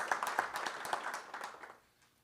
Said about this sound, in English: But we want to do a round of applause.